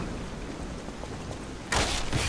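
Rain falls steadily in the video game Lies of P, a dense, even hiss that suddenly swells into a heavier, louder downpour near the end.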